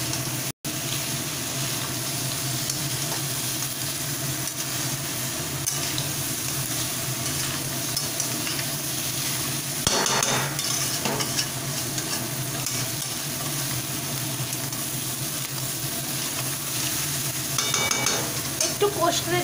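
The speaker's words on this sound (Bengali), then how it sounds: "ভালোভাবে মিক্স করে দিচ্ছি" Crab pieces are stirred with spices in a hot pan, with continuous sizzling and the scrape and rustle of stirring close by. The sound pulses with each mixing stroke.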